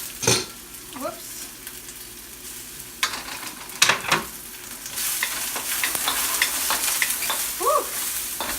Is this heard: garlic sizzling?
yes